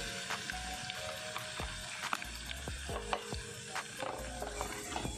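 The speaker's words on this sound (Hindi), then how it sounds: "थोड़ा जिहा इहदे विच आपां लहसुन पावांगे।" Garlic sizzling in a cumin tempering of hot oil for lauki chana dal, a steady close frying hiss broken by occasional stirring clinks and scrapes, with no talking.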